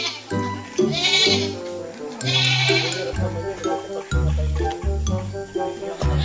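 A goat on a farm bleats loudly and repeatedly in close, wavering cries, with some background voices in between.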